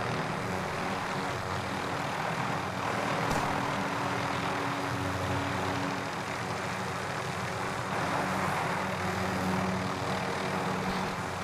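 A helicopter flying over the Verdansk map in Call of Duty Warzone during a Season 3 ride, its engine and rotor drone a steady, loud wash that holds without a break and has no talk over it.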